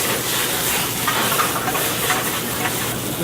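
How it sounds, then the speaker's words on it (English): Steady, dense hiss of whole garlic cloves and capers sizzling in a hot pan, continuous and fairly loud with no talking. "We'll let those just sizzle a little bit."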